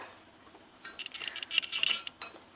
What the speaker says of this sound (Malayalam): ഇനി നമുക്കിതെല്ലാം കൂടി ഒന്ന് മിക്സ് ചെയ്ത് വയ്ക്കാം.